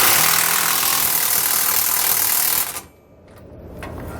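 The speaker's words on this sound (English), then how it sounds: "we can just use an impact driver to snug them down the rest of the way" An impact driver snugs down nuts on the brackets of a Roadmaster rear anti-sway bar under a 2018 Winnebago. A loud, dense rattling hammer runs for a few seconds, then cuts off into a short pause before a quieter burst.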